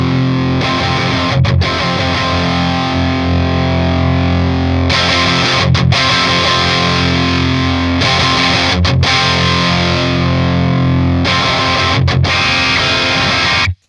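Distorted electric guitar played through a Marshall JCM 800 Synergy amp module, loud dense chords ringing in several long sustained sections separated by brief gaps, with no talking.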